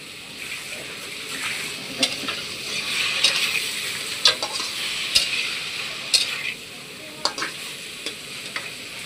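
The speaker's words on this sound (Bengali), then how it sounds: "একটু হালকা কষে নেব।" Small lime fish sautéing in a pan, a steady close sizzle broken by scraping stirs and a few sharp clinks of a utensil against the pan.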